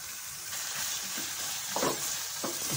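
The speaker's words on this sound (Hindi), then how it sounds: "ये 1/2 किलो कीमा है चिकन का, इसको मैं इतना भुनूंगा इसका कलर चेंज हो जाए" Half a kilo of chicken mince fries in a pan with sautéed onion, a soft continuous sizzle broken by occasional scraping stirs, quiet and close.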